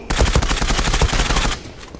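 Rapid burst of video game gunfire, a dense string of loud sharp shots in quick succession for about a second and a half before fading out.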